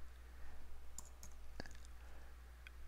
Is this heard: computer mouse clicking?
yes